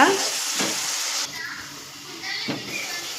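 A tomato, onion, green chili, ginger and garlic paste frying in oil for a coconut-milk chicken curry, giving a continuous close sizzle with a couple of stirring scrapes, while a voice talks over it.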